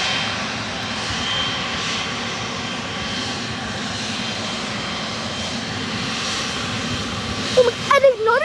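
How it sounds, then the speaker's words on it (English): A second Boeing 747 at JFK Airport, jet engines giving a continuous, fairly distant roar for several seconds, with a short burst of voice near the end. "There's 2 747s at JFK Airport right now."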